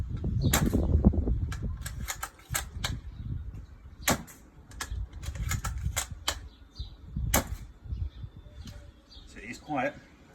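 An Edgi Sap airsoft gun fitted with an upgraded 303mm 6.01 bridged barrel and cylinder, fired in a series of sharp, quiet clicks and pops at irregular intervals over a rustling, noisy outdoor background.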